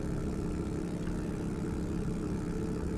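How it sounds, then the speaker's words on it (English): A motorcycle engine in the 7 Days to Die video game, a steady low throbbing run at constant speed, close and continuous without pauses. "I love that motorcycle sound."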